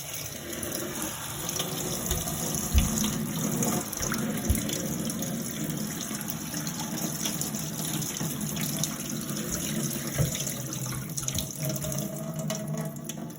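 Tap water runs steadily into a waterproof glove, a continuous splashing hiss at moderate level with occasional small knocks, no voices over it.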